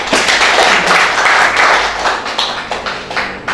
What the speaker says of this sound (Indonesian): Nah, tepuk tangan untuk Pak Niko.